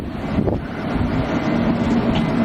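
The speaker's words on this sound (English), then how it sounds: "I think this train just pulled in." Commuter train, an M7 or M9 electric multiple unit, at Port Washington station: a steady close rumble with a low hum and rail noise, roughened by wind buffeting on the microphone.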